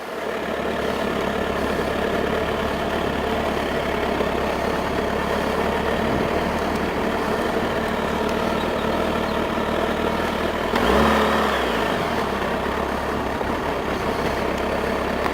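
A motorcycle engine idles low and steady with a heavier low-end surge near the end as it pulls away in first gear, the clutch released without throttle, heard close by with no talk.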